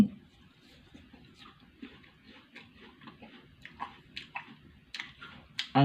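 Close-miked crunching of a crisp strawberry apple during a mukbang: a steady run of sharp, wet bites and chews, growing louder and denser toward the end, with faint mouth sounds between them.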